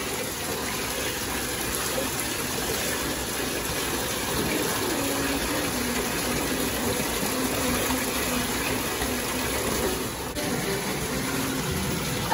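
Water runs steadily from a tap or sprayer while a Lhasa Apso named Bailey is wetted down in a bath, a constant close gushing hiss with no break.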